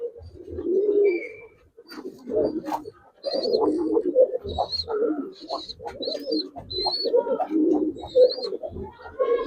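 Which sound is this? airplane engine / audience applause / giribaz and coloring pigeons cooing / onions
giribaz and coloring pigeons cooing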